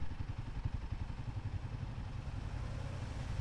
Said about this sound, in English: watch this motorbike go through.